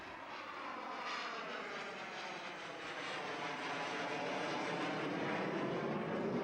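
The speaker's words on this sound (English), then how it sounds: "This is an F5 demonstrating its ability to use a very secondary type runway." A Northrop F-5 fighter jet roars steadily while landing on a rough, secondary runway, a loud continuous engine rush that builds slightly, with no voices.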